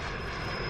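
Jet aircraft in the video game Call of Duty Modern Warfare, a steady loud engine roar with a high whine, continuous through the short moment with no voices.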